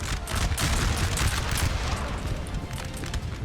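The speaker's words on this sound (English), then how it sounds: "Nice artillery hit on the French lines" Napoleonic-era artillery shells striking French infantry lines in Napoleon: Total War, heard as dense, rumbling battlefield fire with overlapping musket crackle and booms, loud and continuous throughout.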